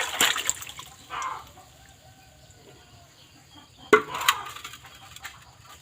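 Water is poured out of a container of soaked bamboo shoots being prepared for fermenting, with a few bursts of splashing and trickling between quieter stretches.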